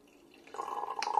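Cider poured from an old bottle after a pop, a soft liquid trickle and splash into a glass that grows louder partway through, close and quiet with no talking.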